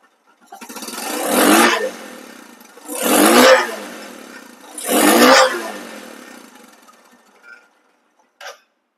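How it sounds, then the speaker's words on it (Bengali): A Bajaj CT100 motorcycle engine revs three times in a regular rhythm, each surge rising and fading, followed by a softer rev and a short blip. "এই বাইকটির সাউন্ড আলাদা করেছে, একদম স্মুথ সাউন্ড করেছে"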